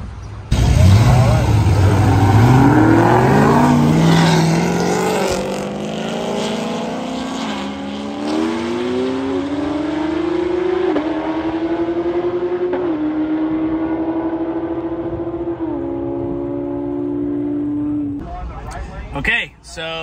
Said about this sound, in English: we're gonna be racing this red ZL1 right here.